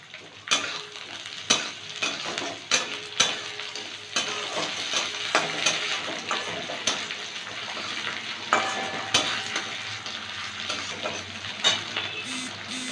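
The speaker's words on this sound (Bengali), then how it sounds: "পেঁয়াজটা একটু ভেজে নেব কয়েকটা কারি পাতা দিলাম" Chopped onion and a few curry leaves fry in a pan with a steady close sizzle, while a utensil stirs them with regular scraping taps through the whole stretch and no voices are heard.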